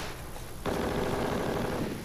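Kalashnikov rifle gunfire in an Algerian film set during the Black Decade, a sudden loud, dense burst of automatic shots that starts abruptly and keeps rattling steadily to the end.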